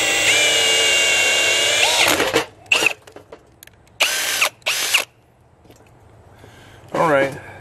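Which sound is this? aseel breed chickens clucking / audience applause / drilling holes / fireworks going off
drilling holes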